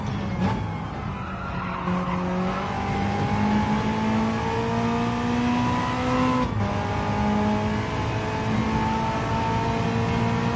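A lightweight race car lapping in Gran Turismo 7, its engine note climbing steadily through the gears and dropping on a shift, with tire squeal underneath, loud and up close with no talking.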